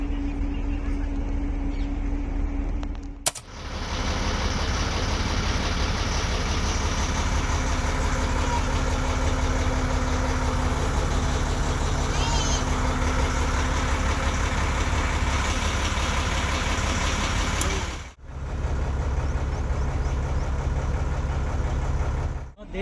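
A motorbike engine idles steadily and loudly outdoors in the Sundarbans, holding a constant rumble for about fifteen seconds and cutting out briefly near the start and end, with faint voices in the background.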